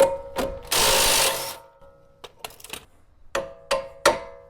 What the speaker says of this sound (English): I'm gonna pull this lower strut bolt.